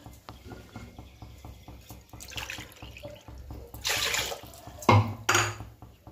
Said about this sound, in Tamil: அதில் வந்து 2 கப்பு தண்ணி ஊற்றுறேன்